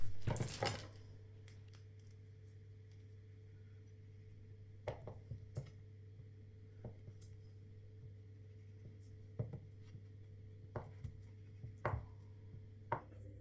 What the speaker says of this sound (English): when you get your butter and your lard, cut them out into small cubes